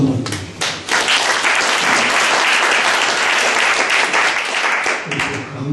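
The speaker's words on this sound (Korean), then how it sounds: "박수 한번 주시죠" Audience at a lecture forum on security applauding, a dense, loud burst of clapping that swells quickly and holds steady for several seconds before easing slightly.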